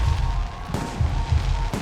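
Fireworks burst in the video game Protocol Alpha, heavy low booms that come in a few uneven waves, with two sharper cracks standing out above a dull background rumble.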